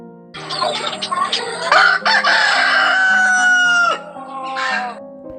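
A rooster crows a loud, drawn-out cock-a-doodle-doo that rises and holds before dropping off, heard close and clear over other faint fowl clucking in the background.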